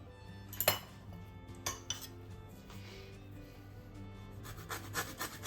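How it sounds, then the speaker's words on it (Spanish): An orange is grated for its zest with a few quick rasping scrapes and some light metallic clinks, close and fairly quiet, with pauses between strokes. "Le voy a rallar también la naranja."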